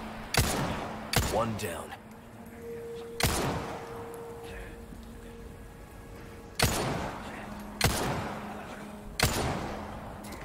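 Sharp, loud gunshots in the Resident Evil video game, single heavy blasts spaced a second or more apart with decaying tails, while a player talks between shots.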